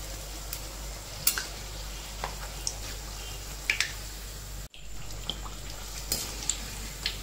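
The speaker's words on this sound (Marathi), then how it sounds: "लालसर पुरी तळून घ्यायची चांगली." Puri frying in hot oil, a soft steady sizzle with occasional faint pops and clinks, quiet and close, without speech.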